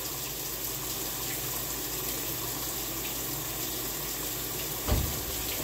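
White vinegar pours into a cap for a washing machine, a steady hissing liquid stream with a brief louder splash near the end.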